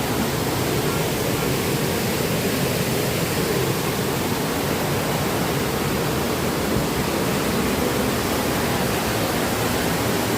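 Water flowing and gushing from a temple tank or pool, a steady broadband rush filling the whole clip without pause, close and continuous with no voices.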